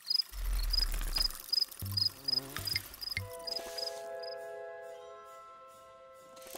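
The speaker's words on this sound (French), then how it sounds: "Le grillon, je dirais comme le bourdon ou l'abeille, est un animal dont les propriétés acoustiques sont très marquées et très reconnaissables." A cricket chirps in fast, evenly spaced high pulses for a few seconds, close and clear, while a few low thumps and knocks sound underneath before a quieter sustained tonal hum takes over.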